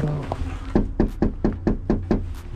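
Knuckles rap on a door during a food delivery, a run of about eight crisp, evenly spaced knocks close up, heard alone over low background noise.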